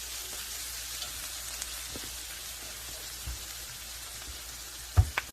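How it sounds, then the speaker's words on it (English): Ratatouille sauce on an electric stove bubbles at a slow simmer, a steady soft crackling hiss with a few faint pops and one louder knock near the end. "It has a slow little simmer going on."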